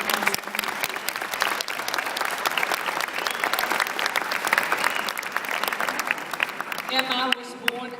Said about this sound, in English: Please give a hand of applause.